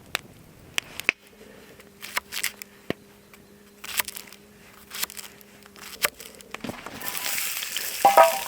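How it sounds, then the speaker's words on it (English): Kangaroo meat stir fry cooking in a pan, with scattered clicks and clatter over a low hum, then a rising hiss of sizzling toward the end. "I'm going to make up a kangaroo stir fry for tonight"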